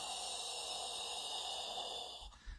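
A steady, close, voiceless hissing breath shaped as an S, with the tongue held tight at the back, continues for over two seconds, then cuts off with a soft breath.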